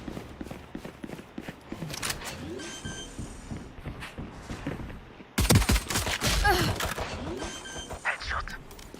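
Gunfire in a tactical shooter game with spike planting, sharp shots and bursts scattered through the clip, one loud close volley midway, with a voice talking over the action.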